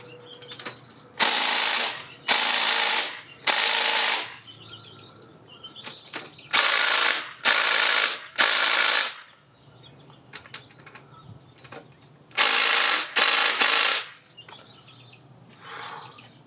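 A mini impact wrench hammers at stubborn bolts on a Honda VT700C, giving loud rattling bursts of about a second each, grouped in threes and pairs with quiet gaps between.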